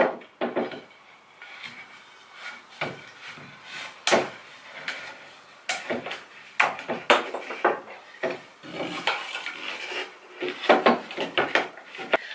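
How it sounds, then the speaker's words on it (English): A wooden dowel is worked into a hole with repeated scraping and rubbing bursts, close and fairly loud, with short creaks and knocks between strokes and no talking. "you're going to just work your dowel into the hole"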